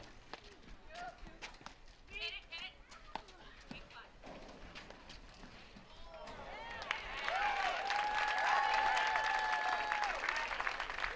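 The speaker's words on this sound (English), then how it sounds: "So there's a lot of cheering going on here, Jerry" Spectators at a women's paddle tennis national final, first scattered claps and murmurs under a commentator's voice, then swelling into louder sustained applause with whistles and cheers over the last few seconds.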